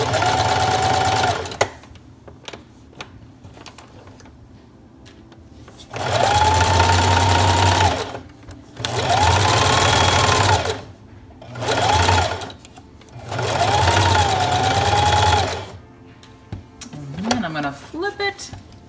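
A sewing machine stitches newborn onesie fabric in several loud bursts of steady whirring, separated by quiet pauses where a person talks, with a brief clatter at the end.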